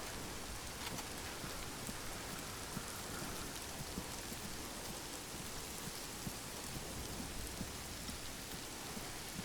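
Game rain on an island setting in Arma 3, a constant dense hiss of falling rain with faint distant rumbles, no voices over it.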